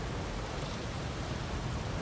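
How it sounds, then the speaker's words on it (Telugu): Steady rain falls in a continuous, even hiss, close and moderately loud, with no breaks or distinct drops standing out and no voices. "అది జస్ట్ వర్షం"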